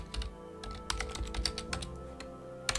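Computer keyboard typing during an Unreal Engine 4 tutorial, with irregular bursts of close, crisp keystrokes and a sharp final tap, no voices.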